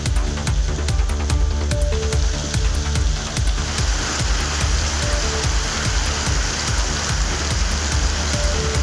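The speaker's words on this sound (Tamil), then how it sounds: "ராணிப்பேட்டை மாவட்டத்தின் பல்வேறு பகுதிகளில் நேற்று இரவு இடி மின்னலுடன் கூடிய கனமழை பெய்தது." Heavy rain pours at night during a thunderstorm in Ranipet district, Tamil Nadu, making a loud, continuous wash of dense drops and splatter on surfaces with no voices.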